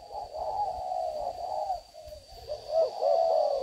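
A spotted dove coos softly in low, rounded, repeated notes, with a faint steady hum in the background.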